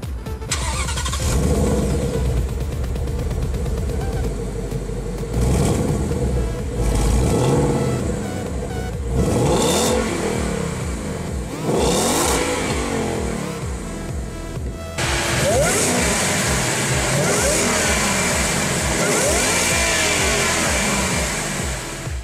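A Roush supercharged 2017 Ford Mustang drives close by, its engine revving and surging loudly through gear changes. It is heard alone and at full volume throughout.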